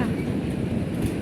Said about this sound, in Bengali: টয় ট্রেনটা যাচ্ছে।